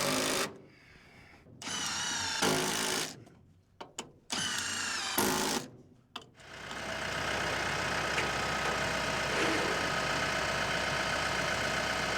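A power drill drives screws into boards on a salvaged trailer frame, whirring in several short bursts with stops between, then running in one sustained stretch, loud and close.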